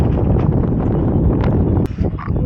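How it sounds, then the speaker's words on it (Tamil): Strong wind buffets the microphone on the hilltop of Gingee Fort, a continuous loud roaring rumble with gusty swells and no clear speech. "காத்து எப்படி அடிக்கிறது?"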